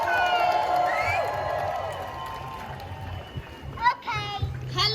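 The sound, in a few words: protest crowd applauding and cheering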